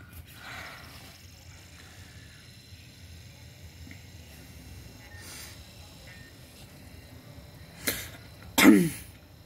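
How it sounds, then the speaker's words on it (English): A man clears his throat in a quiet room, two short rasping bursts close to the microphone near the end after a stretch of faint background hum. "I just gotta clear my throat."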